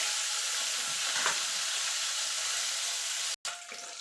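Parshe fish frying in a pan of oil give off a continuous, close, even hiss and sizzle, broken by one brief dropout near the end before the frying noise resumes.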